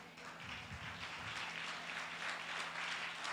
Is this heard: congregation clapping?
yes